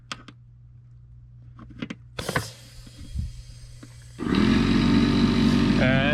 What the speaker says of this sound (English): And the compressor turned on,